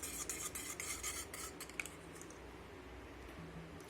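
Egg mixture with oregano flakes is smashed and whisked in a bowl, a quick run of rapid metallic clicks and taps against the bowl that slows and fades after a couple of seconds, with no talking.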